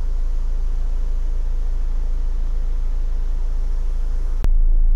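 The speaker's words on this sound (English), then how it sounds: "obviously engine's running as it has been all the way through" A Honda CR-V 2.2 i-DTEC diesel idles with a steady low rumble heard from close by, and a sharp click near the end shifts the tone to a louder, deeper hum.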